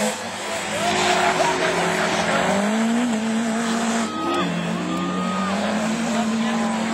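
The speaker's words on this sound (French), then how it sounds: "Avec la Honda qui glisse à l'extérieur, qui se récupère, mais qui perd une place." Rallycross race cars at Lavaré in the French championship Division 4, including a Honda sliding wide and a 205 GTI, with loud engines rising and falling through gear changes and tires skidding, commentary running over the noise.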